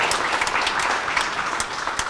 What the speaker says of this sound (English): I'd like for us to give them a round of applause